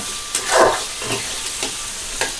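Tomatoes fry in oil while being stirred, a close sizzle broken by repeated scraping strokes and light clicks of a ladle against the pan, no voices.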